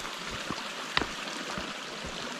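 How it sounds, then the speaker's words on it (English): A babbling brook runs right beside the Appalachian Trail in Virginia, giving a steady, moderately close wash of flowing water with soft gurgles and a few brief splashy bursts, heard alone with no voices. "the trail runs right next to a babbling brook, stream, creek, whatever you want to call it"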